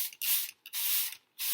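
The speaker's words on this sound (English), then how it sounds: "you can see I have a little spray bottle here" Spray bottle spraying water, three sharp hissy bursts of mist separated by brief silences, close and fairly soft.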